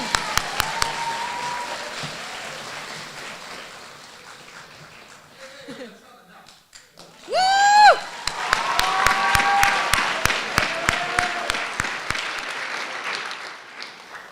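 Scattered clapping at a fall athletics banquet, sparse sharp claps spread through the room, with laughter and a loud burst of voices partway through.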